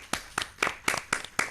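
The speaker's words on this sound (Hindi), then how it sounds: "एक बार अनन्या के लिए जोरदार तालियां तो बनती हैं" An audience at a children's event claps for a child's correct answer, heard as about six sharp, evenly spaced claps close to the listener.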